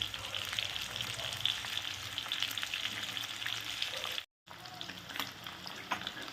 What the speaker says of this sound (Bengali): তো লো ফ্লেমে একটু আস্তে আস্তে করে ভাজবে